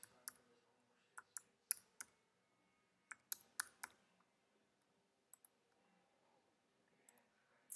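Card details typed on a computer keyboard: quiet, close key clicks in short bursts of several taps, separated by pauses, with a final cluster near the end and no talk.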